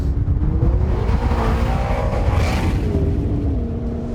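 McLaren 650S Spider engine pulling steadily in a high gear, a continuous loud rumbling drone with a rising and falling tonal note, heard from inside the car with no talk.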